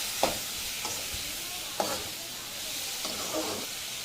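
A spoon stirs a carrot and beans stir-fry seasoned with turmeric in a pan, giving a few soft scraping strokes spaced about a second apart over a quiet, steady sizzle.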